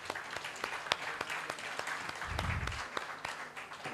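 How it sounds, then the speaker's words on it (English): Scattered, fairly quiet clapping from an audience at a campus event honouring a panelist, individual claps audible in an uneven patter with a low rumble midway. "A round of applause to ma'am, everybody."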